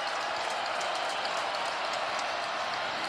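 A Wisconsin Badgers home football stadium crowd roars in a sustained, dense wash of cheering and applause at a distant, even level, with faint talk mixed in.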